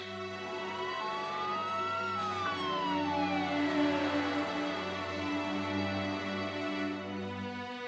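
An ambulance siren wails continuously with rising and falling pitch sweeps over a steady hum, loud and close throughout without any talk.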